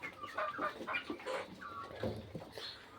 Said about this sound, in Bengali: ওই যে ওই মুরগিটা যে দেখতেছেন